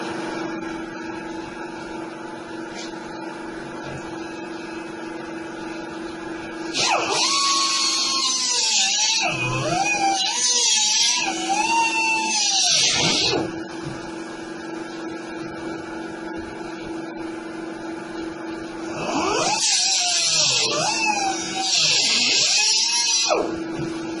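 A small pneumatic die grinder with a roughly 3-inch disc grinds on a fuel tank in two long bursts, loud and close, with a shrill whine that dips and rises against the metal over a steady hum.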